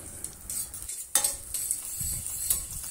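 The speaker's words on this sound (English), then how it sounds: "I start off by sauteing the garlic, ginger and scallion with some oil over low to medium heat until aromatic" Garlic, ginger and scallion sautéing in oil over low to medium heat, a soft continuous sizzle with occasional scrapes and clinks of a utensil stirring in the pan, close up and without talk.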